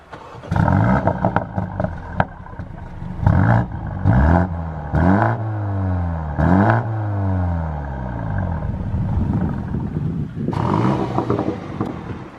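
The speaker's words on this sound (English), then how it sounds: "A few pops and bangs there when you start the car" A BMW M235i engine cranks and fires up loudly, revving with sharp pops and bangs from the exhaust, then settles into a rough, rumbling idle.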